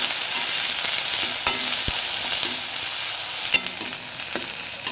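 Ginger-garlic paste frying in hot oil for a fish roe curry, a loud continuous hiss with occasional spatula knocks and scrapes as it is stirred, close up.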